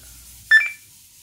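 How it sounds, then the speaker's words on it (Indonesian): An Icom IC-2300H radio gives a single short electronic beep as it powers on through its built-in speaker, a clear close tone of about a quarter second over quiet background. "Jadi dia langsung bunyi bip gitu ya."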